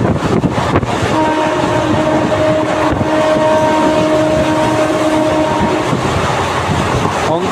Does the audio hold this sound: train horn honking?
yes